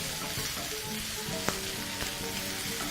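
Pork bacon frying in a pan, a continuous crackling sizzle with scattered small pops and one sharper snap partway through, steady and moderately quiet.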